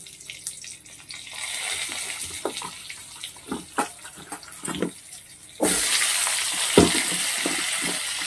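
Cut potatoes frying in a little hot oil with whole five-spice tempering, a steady hiss with scattered pops and stirring clinks that turns into a louder, denser sizzle midway.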